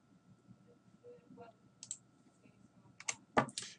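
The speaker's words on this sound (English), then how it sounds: "we click this graph, and then we click on the third layout" Computer mouse clicks while working in Excel 2010: a few sharp, close clicks, scattered at first and then bunched near the end, over a quiet room with faint murmuring.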